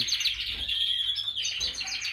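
A young bird sings in a bright, continuous warbling chirp, fairly close and clear, with no voices present.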